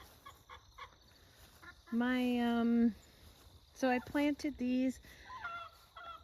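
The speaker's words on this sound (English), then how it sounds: "sorry, you can hear the chickens." Chickens cluck and squawk loudly in a few drawn-out bursts close by, while a person speaks briefly between the calls.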